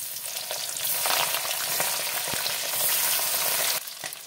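Salt-and-turmeric-rubbed fish sizzling in hot mustard oil in a wok, a loud close crackling fry with bursts of spattering and occasional clinks, no talk.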